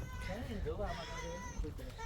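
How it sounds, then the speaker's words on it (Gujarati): A cat meows in a thin, wavering cry a few times, close by, while people talk over it. "કેવું બોલે મ્યાઉ મ્યાઉ ચાલુ જ છે ને"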